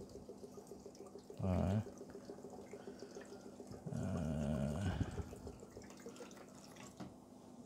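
Water splashes into a container mixed with about 2 mL per liter of plant nutrient solution for potting up plants. There are two short, close pours a couple of seconds apart, and a voice speaks briefly.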